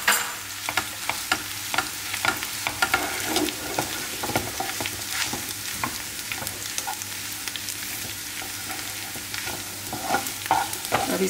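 Mashed boiled potatoes sizzle in a hot pan, likely for stuffed capsicum. Repeated scraping and stirring strokes sound close over a constant frying crackle.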